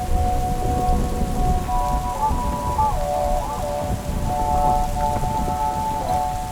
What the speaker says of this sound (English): The storms have finally caught up to us, and the next morning we're packing up in the rain